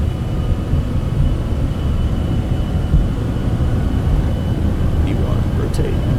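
Cessna Citation X jet engines roaring in a steady low rumble during the takeoff roll in MSFS 2024, constant and loud with a faint high whine above.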